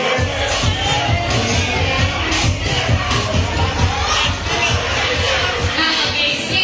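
A crowd cheers and shouts continuously at a Mr and Ms AKP Surigao alumni pageant night, a loud, steady roar with bursts of applause and voices throughout.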